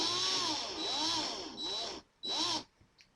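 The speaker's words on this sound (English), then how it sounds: "Just back the drill up." An electric drill runs in reverse in several bursts, whirring with wobbling pitch and then stopping and restarting briefly, close and fairly loud, with no talk.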